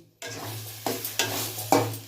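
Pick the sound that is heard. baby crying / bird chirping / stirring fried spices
stirring fried spices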